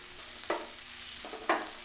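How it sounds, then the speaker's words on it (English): Quiet sizzling of pasta frying in oil in a pan, with two sharp clatters of stirring, a soft steady hiss underneath, no voices. "You're gonna be frying this, so add in some oil"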